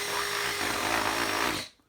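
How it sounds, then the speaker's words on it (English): Power drill running steadily for about a second and a half to widen a hole in a kayak hull, close and loud, then cutting off abruptly into silence. "So I've just expanded that a little bit there with a drill."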